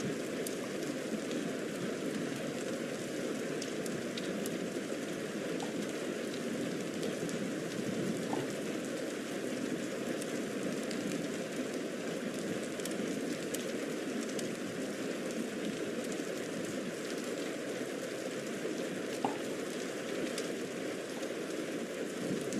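Light rain falls outside in a steady, even hiss with occasional faint drip ticks, constant and unbroken throughout, with no voices over it.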